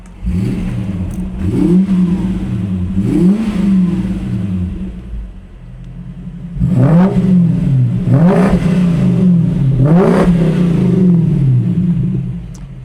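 A turbocharged drift car engine revs up repeatedly, climbing high in pitch with each push and dropping back between revs, loud and close with a steady idle rumble underneath.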